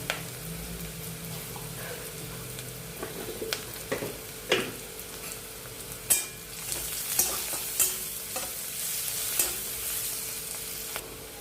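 Onions fry in a pan, with a continuous close sizzle and repeated scraping knocks of a spoon stirring them at irregular intervals.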